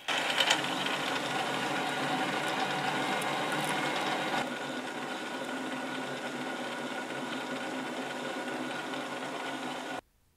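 A metal lathe cuts threads on a lead screw with very light passes, giving a steady whirring, grinding mechanical drone that drops slightly in level partway through and then stops abruptly near the end.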